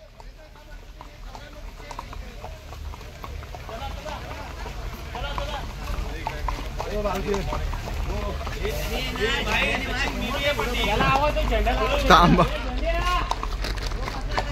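Horse hooves clip-clop on a trail at Matheran hill station as riders travel together, a steady close rhythm under continual chatter and calls from several people.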